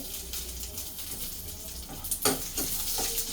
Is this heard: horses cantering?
no